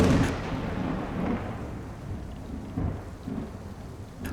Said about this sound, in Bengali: এক নাগাড়ে হয়ে চলা বৃষ্টির শব্দকে ছিন্ন করে মাঝে মাঝে বাজ পড়ছে দূর আকাশে।